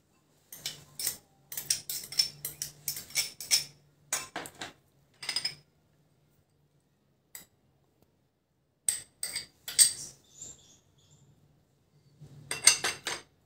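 Metal utensils clink and tap in a pan as chopped vegetables go in, in short bursts of scraping and knocking separated by brief pauses, close and fairly loud with no talking.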